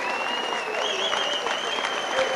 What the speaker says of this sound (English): Wally Jones getting a big round of applause from the Oldham fans.